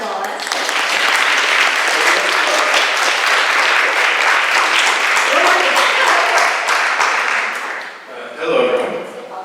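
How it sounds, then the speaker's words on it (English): Audience applause for visiting labor union representatives at a campus forum, a dense steady roar of many hands clapping for about eight seconds before thinning out as a voice begins to speak. "If you want to give them a round of applause"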